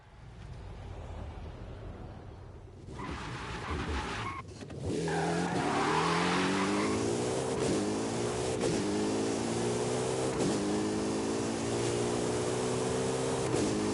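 A Porsche driven in Forza Horizon 5 on PS5 starts with a muffled rumble, then its engine revs up into a loud, rising, harmonic whine, climbing repeatedly through gear shifts with brief dips between pulls.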